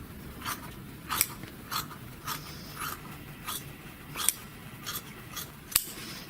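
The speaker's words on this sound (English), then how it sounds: "the next step is to trim that seam allowance that's going to be on the bottom" Scissors trim a faux leather seam allowance to a quarter inch, giving a series of crisp snips at a loose, even rhythm, close and clear with no talking.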